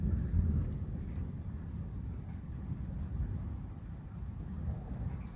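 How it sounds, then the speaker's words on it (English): A long, low rolling rumble of distant thunder during a lightning storm continues steadily throughout, deep and muffled, mixed with some wind noise. "And there we go with the thunder again"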